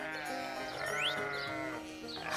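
Sheep bleating in a farm-themed educational video game, a few wavering, drawn-out calls over steady game music, with no talking.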